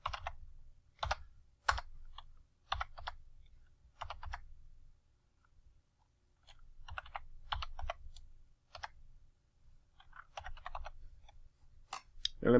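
Quiet, close keyboard typing in irregular bursts of clicks and taps, with short pauses between runs of keystrokes.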